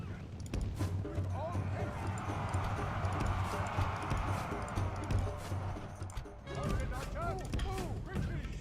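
Arab cavalry horses thunder across a battlefield in the video game Medieval 2, a dense continuous clatter of hooves with clashing and battle noise, while someone talks over the din.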